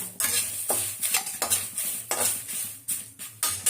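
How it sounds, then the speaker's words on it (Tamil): Chillies, curry leaves and sesame seeds dry-roasting in a pan, heard as repeated scraping strokes of a spoon stirring against the metal, close and fairly loud with a faint crackle between strokes. "இது அப்படியே நம்ம நல்லா பரப்பரன்னு வறுக்கணும்"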